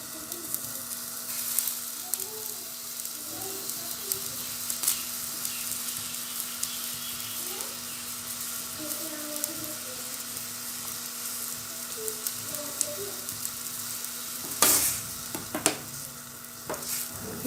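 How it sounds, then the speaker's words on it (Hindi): Beef simmering in a frying pan on a stove as a chicken noodle dish is cooked, a steady soft sizzling bubble with occasional stirring scrapes and a brief louder clatter near the end, no voices. "अब हम मज़ीद इसको 1 से 2 मिनट उबालेंगे।"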